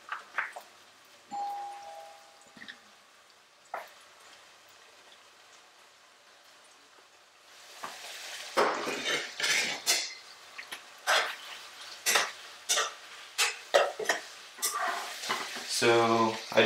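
Onions and garlic tossed into a pan of browned beef start frying with a loud sizzle, then a spoon stirs and scrapes the pan in repeated strokes, close up after a quiet start.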